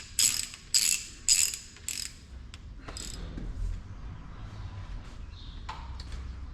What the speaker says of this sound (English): we do the kind of tighten down the follower side a little bit first, and then the other side